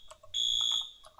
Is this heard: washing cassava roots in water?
no